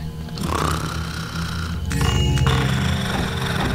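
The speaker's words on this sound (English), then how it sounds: "in case I can hear someone snoring" Loud, rasping snoring of a sleeping guard in Thief Gold drones on for a few seconds, with a brief sharper noise midway and some background rumble.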